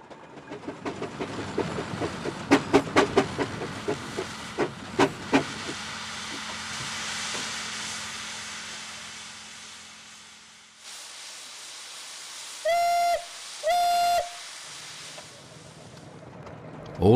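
Steam traction engine at a steam rally hisses with escaping steam and mechanical clanks, then gives two sharp, loud whistle blasts near the end, heard outdoors without talk.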